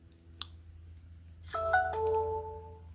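Small beeps and tones come from a phone indoors during a quiet cross-stitch session: a faint click, then a short run of soft electronic notes, with no talk.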